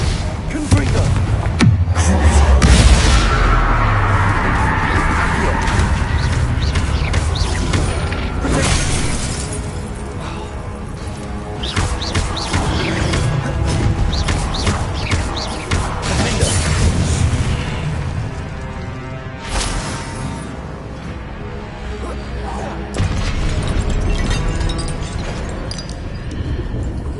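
Repeated Confringo explosive spell blasts in a fantasy video game, a series of loud booming bursts and crackling debris spread over a busy, continuous game soundscape, with a voice speaking between them.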